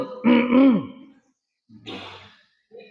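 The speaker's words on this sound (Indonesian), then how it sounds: "Cara jawabnya dengan dehem." A voiced throat-clearing hum, followed after a pause by a second, breathier clearing sound; short, close, with no words.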